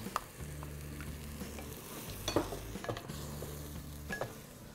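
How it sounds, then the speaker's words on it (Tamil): Fresh cream is stirred into a basic masala for mutter paneer in a pan, giving soft scraping and mixing sounds over a low sizzle, with low-frequency tones underneath. "ஊற்றி இதை ஃபுல்லாக மிக்ஸ் பண்ணுங்கள்"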